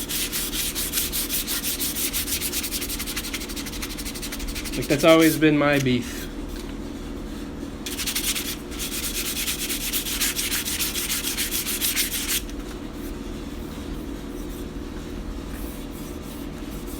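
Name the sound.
sanding with 150-grit sandpaper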